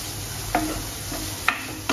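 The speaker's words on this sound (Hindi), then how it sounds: "ये डाल के हम इसको अच्छे से एक बारी फिर से सॉटे कर लेंगे" A spatula clicks and scrapes against a pan as finely chopped French beans and carrots are sautéed, a few sharp taps over a faint steady sizzle, close and quiet with no talking.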